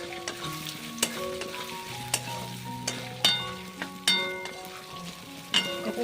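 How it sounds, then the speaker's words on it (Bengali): Coconut pieces fry in a wok for ghugni, a close, lively sizzle with bursts of stirring and scraping, sharp clinks scattered through, and no voices. "নারকোলগুলো দিয়ে দেওয়ার পরে তারপরে নারকোলগুলোকেও কিছুক্ষণ ভেজে নেব।"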